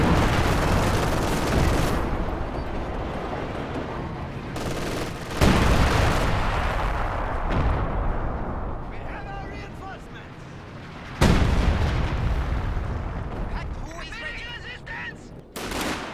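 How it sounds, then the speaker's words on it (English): Artillery barrage from Priest self-propelled guns in a real-time strategy match, heavy booming shell impacts and blasts arriving in several loud bursts, with a caster talking over the battle noise throughout. "Priest barrage coming in is off target"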